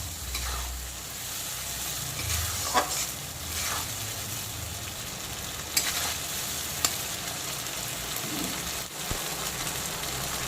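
Ginger-cumin spice paste sautés in oil over low-to-medium heat for a rohu fish curry, a continuous soft sizzle with occasional spatula stirs and light taps.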